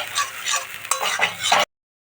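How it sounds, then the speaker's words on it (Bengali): Ground spice paste frying in a pan is stirred steadily, with continuous scraping and sizzling that stops abruptly near the end. "বেটে রাখা মশলাগুলো ভালো করে নাড়িয়ে নেব"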